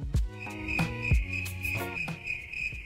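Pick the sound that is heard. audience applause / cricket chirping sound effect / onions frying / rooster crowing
cricket chirping sound effect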